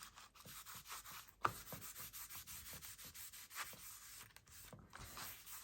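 Grime is rubbed off an antique book cover in quick, repeated scratchy strokes, soft and close, with a steady back-and-forth rhythm and one sharper scrape partway through.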